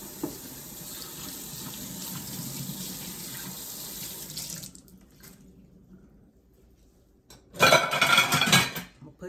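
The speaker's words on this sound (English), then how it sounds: "wash my hands." A kitchen sink tap runs steadily as hands are washed under the water, then cuts off into near silence before a brief loud burst of splashing water near the end.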